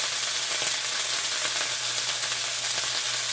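Food chars in a hot pan during lamb chop cooking, giving a steady, close hiss of sizzling with no pauses, under a low constant hum.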